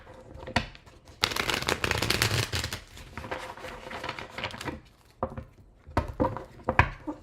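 A deck of tarot cards is shuffled in several bursts, crisp riffling flutters near and fairly loud, separated by short pauses.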